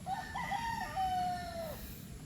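A rooster crows once, a single drawn-out cock-a-doodle-doo heard at moderate distance over a steady low background hum, with no talking.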